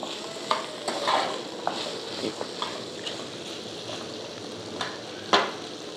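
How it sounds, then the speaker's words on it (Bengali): Chicken gravy being stirred in an uncovered pan, with soft scraping strokes and light sizzling over a steady low frying hiss, a few sharper clicks of the spoon against the pan. "ঢাকনা না দিয়ে কিছু সময় এই রকমভাবে নেড়ে চেড়ে নেব।"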